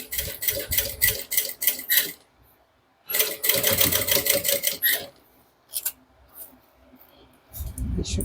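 Sewing machine stitching through thick layers of a handbag, running in close loud bursts of rapid rhythmic stitches with pauses and a few short clicks between runs.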